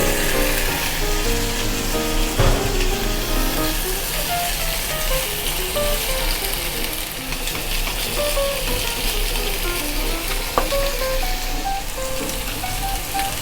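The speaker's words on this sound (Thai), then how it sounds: "ตอนนี้พริกหอมแล้วครับ ผมใส่ปลาดุก ลงไป เลยครับนี่" Pieces of catfish sizzle and fry in a hot pan with fragrant chili paste for a Thai spicy stir-fry. A dense, steady crackle continues throughout, with occasional clicks and clanks from the pan.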